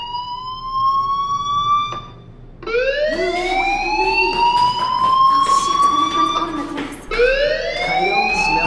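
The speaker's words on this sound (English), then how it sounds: "Hey, do you hear that fire alarm? That means you should be outside." In the video game Life is Strange, an electronic fire alarm wails at a school, its rising, sliding tones repeating in loud sweeps with short breaks between cycles.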